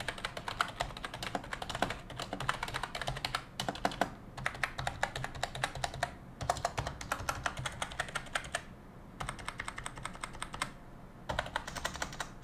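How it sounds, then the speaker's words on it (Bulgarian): Continuous typing on a Logitech G213 Prodigy membrane keyboard, a dense run of soft, close key taps broken by a few brief pauses, with no voices. "Просто ми харесва звучението, не съм фен на най-най кликащите клавиатури."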